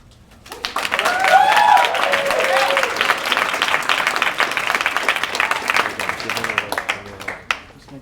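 An audience applauds speakers at a debate final, clapping swelling quickly and holding loud, then thinning into scattered claps near the end, with a voice briefly heard over the start.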